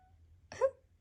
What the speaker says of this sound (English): can you hear the kitty? That's Kipo